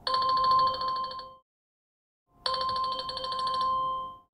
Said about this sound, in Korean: 딸랑딸랑 소리가 나죠 전화가 온 겁니다